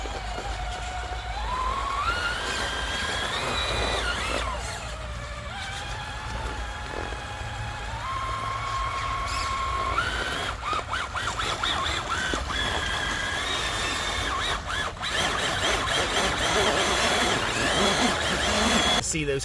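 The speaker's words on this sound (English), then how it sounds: "See those kind of scale tyres are just kind of slipping, and then there's our slipper clutch gone again." A 1941 Willys Jeep MB 1/6-scale RC scaler by ROCHobby whines and revs as it tries to climb a bank, the motor pitch rising and falling as scale tyres slip and the slipper clutch gives, with someone talking over it.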